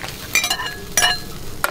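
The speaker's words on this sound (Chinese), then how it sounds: "把锅盖盖上" A metal pot lid set down onto a wok, giving a couple of brief clinks and clatters close by in a quiet kitchen.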